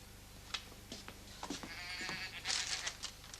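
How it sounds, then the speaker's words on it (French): A goat bleats several times, fairly close and not very loud, in short cries over a quiet background. "Tiens, la chèvre."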